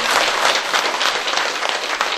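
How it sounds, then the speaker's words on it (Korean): Audience applause at a Buddhist book-launch dharma ceremony in Busan, dense steady clapping from a crowd filling the room, sustained and loud throughout without pause. "뜨거운 박수로 받아주시기 바랍니다"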